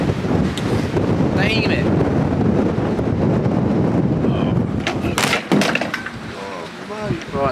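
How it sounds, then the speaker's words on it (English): Strong wind buffets the microphone on a sea fishing pier at Yarmouth, a steady roaring rush filling the whole clip with a brief spoken voice near the end. "just because the wind is too strong"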